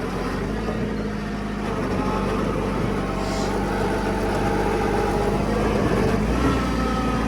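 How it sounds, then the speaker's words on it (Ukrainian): A Kubota GT-5 mini tractor's engine runs steadily while the machine turns, a constant low mechanical drone at moderate loudness with no talk over it. "Тракторець розвертається."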